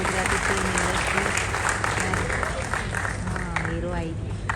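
A large audience at a Gujarati creators' festival applauds loudly and steadily to welcome actor Hiten Kumar, dense clapping filling the whole stretch with crowd noise and a voice over the top.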